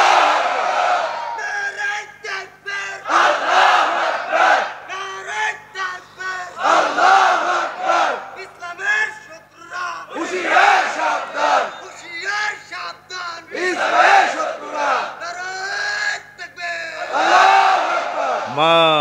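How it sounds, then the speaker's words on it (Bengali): A large crowd at an Islamic religious gathering (mahfil) roars back in loud, repeated chanted bursts responding to a young man's takbir call, with voices swelling and falling in waves throughout. "কি সুন্দর তাকবীর দিয়েছে যুবক মানুষ"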